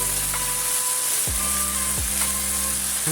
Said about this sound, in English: Stir fry everything about 20 seconds